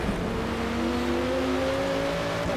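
Camaro race car engine at Brands Hatch in a racing game, a loud, steady, rising drone as the car accelerates, continuous and close with no talk.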